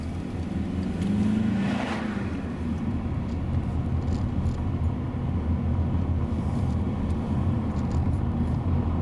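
A learner car driving steadily on the road during a driving lesson, with a continuous low engine and road rumble and a brief rise around the second mark, no talking.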